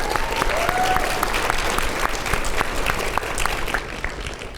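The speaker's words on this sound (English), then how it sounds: "Please give a round of applause for Miss Clare Abboud from Jackson High School in Ohio" Loud, continuous applause from an audience at a national high school debate award ceremony, many hands clapping in a dense, steady wash with a few sharper individual claps standing out.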